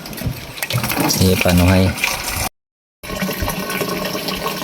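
Water gushes and splashes from a newly installed pump outlet on a hillside farm, a steady rushing flow with people talking loudly over it.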